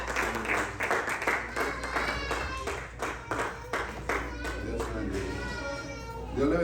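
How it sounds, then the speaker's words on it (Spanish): Church congregation clapping in rhythm, a run of sharp, evenly spaced claps with voices and children's chatter mixed in, moderately quiet and roomy. "Denle un aplauso al Señor, amén."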